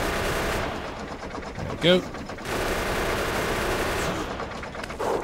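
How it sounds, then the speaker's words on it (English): Machine guns fire on enemies in the video game Factorio, a continuous rattle of rapid gunfire through the whole stretch, with a player briefly talking over it. "And I'll take these out with machine guns."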